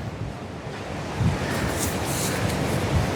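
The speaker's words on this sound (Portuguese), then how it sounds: "Tá ventando bastante aqui no Rio hoje." Strong wind blowing across the Copacabana seafront in Rio, a steady broadband rush buffeting the microphone and blending with surf from the nearby ocean, loud and continuous with gusts swelling toward the end.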